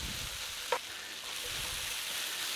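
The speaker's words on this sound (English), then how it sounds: "I love onions, peppers cooking, and got the jalapeno in there." Onions, peppers and jalapeno frying in a pan for Mexican bacon-wrapped hot dogs give a steady, soft broadband sizzle with a brief stir or clink near the start, moderately close and with no talk.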